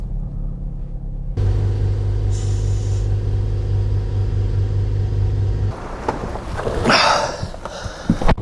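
A BMW car's engine rumbles at a steady idle with a deep low drone, then the pitch shifts and it revs up with rising, rougher bursts toward the end, heard close and without talk.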